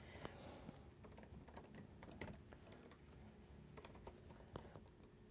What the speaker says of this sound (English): I don't know why I stopped talking because Emily's typing